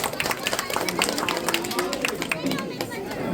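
Guests at a wedding reception party clap for the newlyweds, a steady patter of close, overlapping handclaps lasting a few seconds, mixed with crowd chatter and voices talking throughout.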